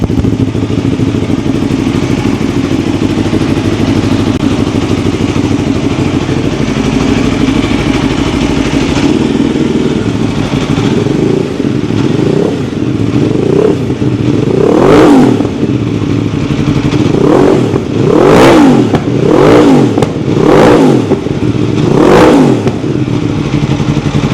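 A 230 hp Aprilia Xtrenta motorcycle engine idles loudly nearby, then revs in a series of sharp, rising bursts, several revs in close succession toward the end.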